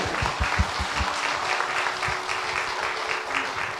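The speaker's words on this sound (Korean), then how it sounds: "우리 박수 한번 할까요?" A church audience claps together in a burst of steady applause, moderately loud, with a few faint voices underneath.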